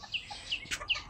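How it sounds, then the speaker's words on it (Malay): A bantam chicken near a lakeside chalet gives a few short, high clucking calls, spaced out and moderately close, over quiet outdoor ambience. "Ni ayam katik."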